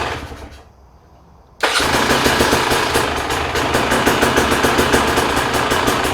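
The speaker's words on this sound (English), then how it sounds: "we're going to put the tank back on and try starting the bike." Close and loud, the engine of a 2017 Husqvarna TE300 motorcycle is started after a stator install: a short quiet crank, then a sudden catch into a steady rapid off-road idle that carries on to the end.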